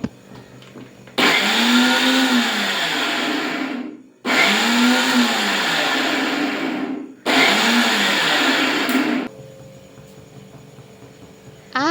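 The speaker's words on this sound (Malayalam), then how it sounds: "തേങ്ങയും ചെറിയ ജീരകവും വെളുത്തുള്ളിയും 2 കൊച്ചുള്ളിയും എല്ലാം കൂടി ഇട്ട് 3 അടി അടിച്ച്" An electric mixer grinder whirs as it grinds coconut, cumin, garlic and shallots, running loud and close in three pulses of roughly three seconds each with short pauses between, its motor pitch dipping and rising under load.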